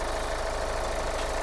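A vehicle engine idles steadily with a dense, continuous rumble and vibration, the engine leaking oil between the transmission and the block; no voices over it.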